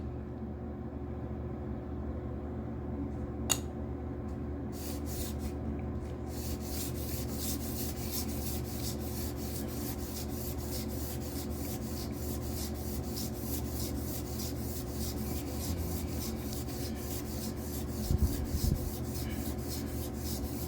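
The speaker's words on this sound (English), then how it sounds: "I can actually feel the sandpaper starting to wear out" An Intel 13900K CPU being lapped on worn sandpaper gives a steady, continuous rubbing and sanding rasp that runs throughout, with a faint rhythmic stroking texture and one brief click early on.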